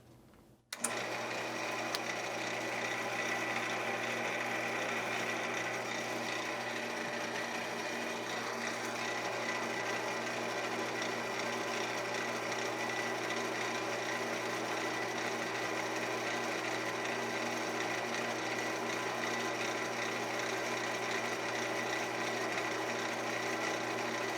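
A pen turns on a lathe while being polished with Meguiar's Ultimate Compound, making a steady continuous whirring hum with faint rubbing. It runs evenly throughout after a short quieter start.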